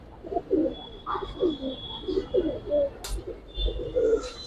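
Racing pigeons cooing close by, a series of soft, throaty, rhythmic coos repeating through the whole stretch with faint background noise.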